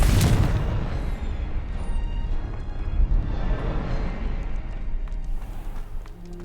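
A Confringo fire blast spell explodes in Hogwarts Legacy with a heavy booming burst that opens loud, then a long deep rumble and crackle that slowly fades, with no talk.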